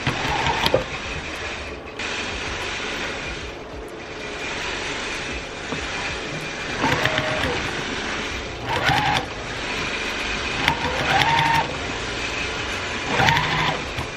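Longarm quilting machine running while stitching binding on a handmade scallop quilt, a continuous mechanical hum and whir with a few louder surges and brief rhythmic bursts, close by and with no talk.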